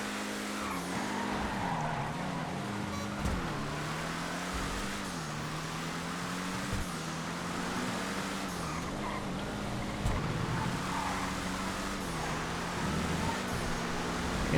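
Race cars in the GTA FiveM video game, a Vision and a Viserys battling for the lead in a vehicle race, give a steady engine drone with shifting revs and occasional tyre squeal throughout.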